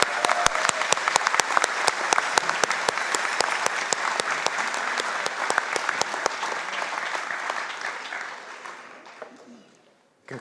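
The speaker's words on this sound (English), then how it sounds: "One more round of applause." A large audience applauds at a Skagit Valley College commencement ceremony, a dense sustained clapping with sharp individual claps standing out, fading gradually toward the end.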